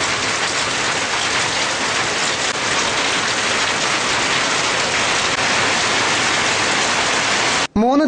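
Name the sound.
heavy summer rain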